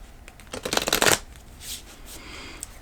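An oracle card deck is shuffled close up in one brief riffling burst, followed by quieter card handling.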